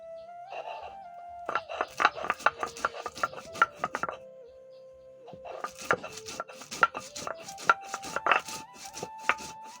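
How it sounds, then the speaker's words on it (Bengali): A large onion, garlic, cumin, coriander, cinnamon, cardamom and green and ripe chillies are ground by hand into a paste for a pangas fish curry. Close, rhythmic scraping and knocking strokes come in two steady bursts separated by a short lull. "বড় সাইজের একটা পেঁয়াজ, রসুন, জিরে, ধনে, দারচিনি, এলাচ আর কাঁচা পাকা মরিচ, এই সকল মশলা আমি প্রথমে বেটে নেব।"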